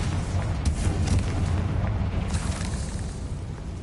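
A Confringo fire spell explodes in a Harry Potter video game, heard as a loud, deep rumbling blast that holds steady for several seconds, close and heavy.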